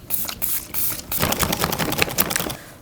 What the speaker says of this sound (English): Let's get some setting spray going.